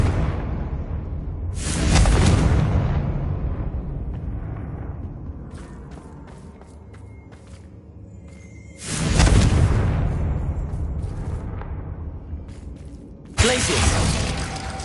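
Confringo blasting spells exploding in Hogwarts Legacy: three loud, sharp broadband bursts spaced several seconds apart, each a booming crackle that decays over a second or two, with quieter magical mechanisms and shimmering effects between.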